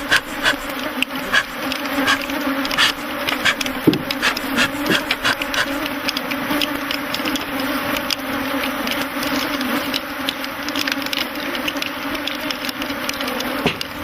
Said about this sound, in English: there must be several million bees swarming around the men.